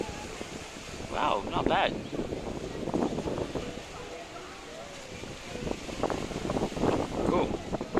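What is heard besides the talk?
strong wind outdoors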